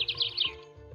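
Short bright bird chirps ring out in the Meena video game, a quick run of high tweets over a soft background tone, lasting about a second.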